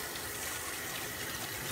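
Hot tap water runs steadily from a faucet for hand washing, a close, even hiss and gush with no voices over it.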